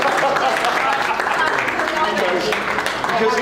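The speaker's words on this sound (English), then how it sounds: "I want to give them a huge round of applause before we get started." Audience applause at a manufacturers forum, a dense, even patter of clapping from a room full of people, with a voice talking over it.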